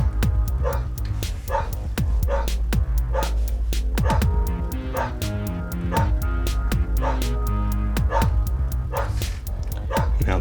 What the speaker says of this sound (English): Now the dogs are going crazy out there